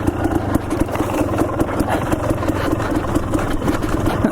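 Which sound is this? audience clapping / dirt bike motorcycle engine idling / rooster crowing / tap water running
dirt bike motorcycle engine idling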